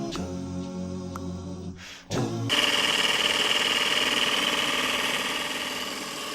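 A sewing machine runs with a steady, dense mechanical whir after a brief hum and a short pause, holding at a constant level and then easing off slightly.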